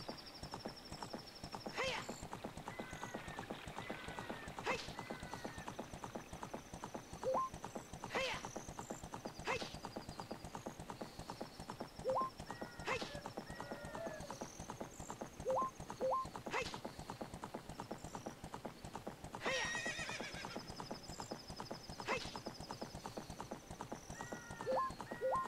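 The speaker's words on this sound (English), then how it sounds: "Back on our horse, and now we're gonna head back to the Kokiri Forest." A horse in Zelda: Ocarina of Time gallops with steady, rhythmic clip-clopping hooves, broken by several short whinnying neighs spaced through the run, all fairly quiet and with no talk.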